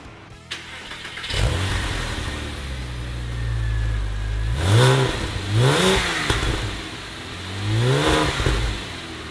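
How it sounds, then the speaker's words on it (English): A Porsche Boxster S (986) engine with a new exhaust starts and idles with a low rumble, then revs up and back down three times, loud and close. "The new exhaust sounds pretty nice. She kind of purrs."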